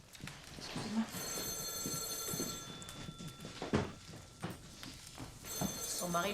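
A telephone rings with repeated bright electronic trills, heard several times through the clip. Voices talk over and between the rings, and the rings are of moderate loudness.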